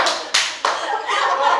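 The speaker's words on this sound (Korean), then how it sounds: "내 말에 너무 감동해서 중간에 박수를 치네요." Applause from an audience during a lecture, several loud bursts of hand clapping close by, with a few sharp onsets breaking through the steady patter.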